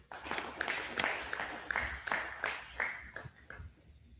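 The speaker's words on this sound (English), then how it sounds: "give him a round of applause" A modest round of applause at a political symposium, with distinct claps landing in a loose rhythm before thinning out toward the end, fairly close and with no talk over it.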